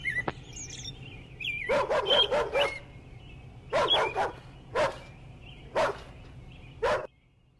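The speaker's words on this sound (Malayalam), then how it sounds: "നായ കുരയ്ക്കുകയും പക്ഷികൾ ചലിക്കണതൊക്കെ കേട്ടല്ലോ" A dog barks in several quick bursts of two to four barks separated by pauses, fairly close, while birds chirp faintly in the background.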